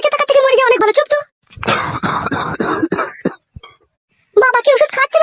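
A man in a Bangla comedy cartoon coughs loudly in a fit of rough, repeated hacks, close up, with voiced speech before and after.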